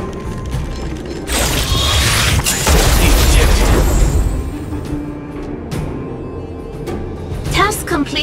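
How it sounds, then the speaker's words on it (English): An explosion set off by an Automaton Spider in the video game Honkai: Star Rail: a loud, sustained rumbling blast with mechanical clatter, fading into quieter game sounds. "trigger an explosion to disperse the disruptive workers"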